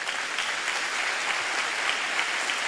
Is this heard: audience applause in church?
yes